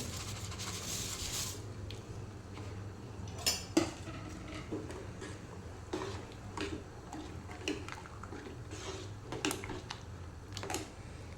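Fried vermicelli going into hot milk in a pot for payasam, with faint clinks and scrapes of a spoon against metal, some sharper knocks early on, and light stirring over a low background hum.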